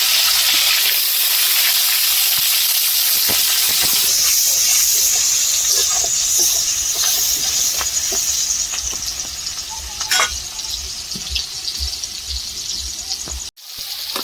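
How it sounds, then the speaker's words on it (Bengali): Potatoes fry in a pan with a loud, steady hiss and sizzle that continues throughout, with occasional sharper spits and crackles and a brief break near the end. "আলুটা এবারে ভেজে নিই"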